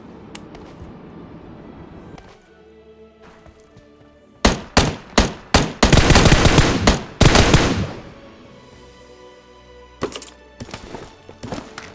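Gunfire in Battlegrounds Mobile India: a rapid burst of loud, close shots in the middle, with scattered single shots before and after over quieter game ambience, no talk.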